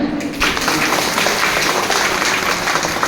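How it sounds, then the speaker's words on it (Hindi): Students in a classroom clap together, giving a dense, steady burst of applause that starts abruptly and continues loud and even to the end. "ताली बजा"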